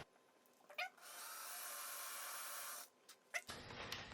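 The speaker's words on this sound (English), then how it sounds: "we're going to use the ground center drill bit" A ground center drill bit bores a starter hole in a fastener repair lab, with a short spin-up, a steady high whine of nearly two seconds, then a few brief clicks and handling noises.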